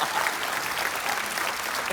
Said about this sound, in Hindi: जोरदार तालियां लेने के लिए